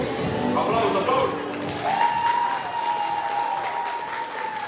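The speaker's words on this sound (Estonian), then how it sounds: "Tehke üks suur aplaus." Audience applause at a school playback show and teacher band concert, a loud dense clapping that swells and then holds steady, with a voice speaking over it.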